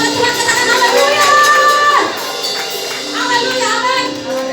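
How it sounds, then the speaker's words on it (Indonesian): A church congregation applauds and cheers at an Indonesian worship service, a dense loud wash of clapping and voices that eases slightly midway, with music tones underneath. "Berikan tepuk tangan kepada Tuhan, katakan haleluya."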